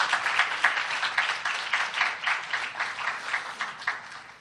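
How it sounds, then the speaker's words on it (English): Audience at a talk applauding, a fairly dense round of clapping with slightly pulsing bursts at moderate loudness, fading near the end. "Give yourselves a round of applause."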